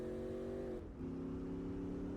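Steady droning engine note from a car in Gran Turismo 4 with the Spec II mod, a close, continuous hum that dips briefly as the pitch drops and then settles into a slightly lower steady tone, with no talking.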